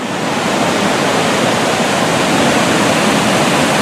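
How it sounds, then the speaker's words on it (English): A river in the Adirondacks rushes steadily, a loud, even wash of flowing water close by that fills the scene without pause and with no voices. "There's the river"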